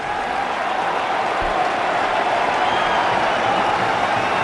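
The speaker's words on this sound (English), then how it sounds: "Nice round of applause." Broad, steady roar of a large stadium crowd applauding during an India versus Pakistan Asia Cup cricket match, a continuous distant wash of clapping and cheering that holds evenly throughout.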